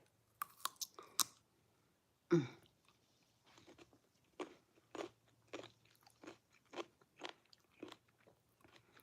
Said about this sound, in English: I want to taste the rind.